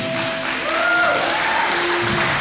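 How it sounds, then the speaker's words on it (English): A live audience applauds a karate coach at an international karate event in Fiji, a steady dense wash of clapping filling the whole moment with tonal music or whistling over it. "Give him a round of applause, please."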